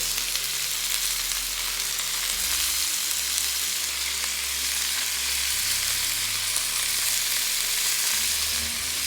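Lobster in a single pan with garlic butter fries in a steady, dense sizzle that holds evenly from start to finish, close and fairly loud, with no one speaking over it.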